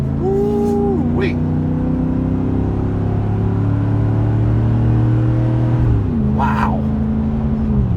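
A 2013 Chevrolet Silverado Z71 LS with a 5.3 V8, a rebuilt motor and a 6-inch lift, accelerating from inside the cab. Its loud engine drone climbs and shifts steadily, and a voice briefly exclaims over it.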